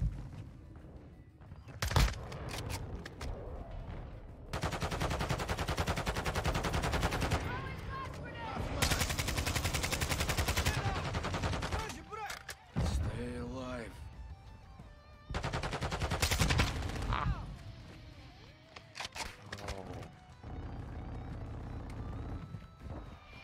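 Gunfire in the video game Modern Warfare II comes in loud automatic bursts, several long sustained volleys separated by quieter gaps with scattered single shots, and game sounds and a voice briefly in between.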